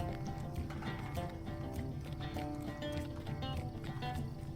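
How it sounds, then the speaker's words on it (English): Horses in the town of Bree in the online game The Lord of the Rings Online, with soft clip-clopping hooves and animal movement over a faint game ambience, quiet and fairly distant. "then there's some more horses"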